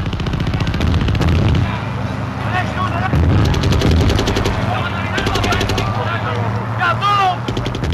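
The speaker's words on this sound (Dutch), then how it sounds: "heeft men ook gezorgd voor de nodige knaleffecten" Repeated loud bangs and sharp cracks of blank gunfire and bang effects ring out in irregular bursts during a military demonstration exercise, mixed with shouting voices and a steady engine drone underneath.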